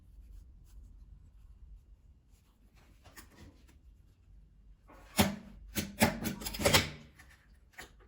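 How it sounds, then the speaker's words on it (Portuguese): Scissors trim excess fabric off bias binding on a patchwork key holder. A few crisp, close snips cluster together after a quiet stretch, with one more snip at the end. "Eu vou cortar um pouquinho mais nesse excesso."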